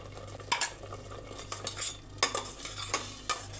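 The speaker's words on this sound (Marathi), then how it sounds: "हे छान तेल सुटपर्यंत परतून घ्यायचं आहे" Tomato puree and garlic paste sautéing in a pan, with a spoon scraping and stirring against metal in irregular strokes over a soft, steady sizzle.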